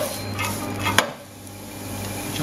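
Puntarelle sautéing in hot oil with soy sauce in a pan, giving a steady soft sizzle with a sharp clatter of pan or utensil partway through, then a quieter frying hiss.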